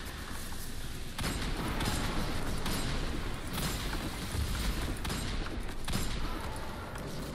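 Weapon fire in Destiny 2: a dense, continuous stream of shots and impacts with a few sharper bursts standing out, loud and sustained throughout.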